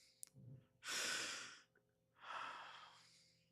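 Two long, deep breaths follow a brief click, each a soft, close, airy rush that swells and fades, separated by a short quiet pause, with nothing else around them.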